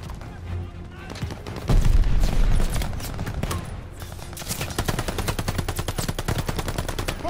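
Machine gun fire rattles through a Call of Duty: Vanguard battle: scattered shots and a heavy boom give way to long, rapid, loud bursts of automatic fire, with shouted voices in the mix.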